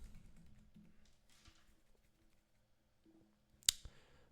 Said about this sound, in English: typing is kind of annoying.